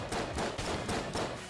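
Hand cannon gunfire in the video game Exit the Gungeon comes as a few dense, punchy blasts in quick succession, loud and bright, with no talk.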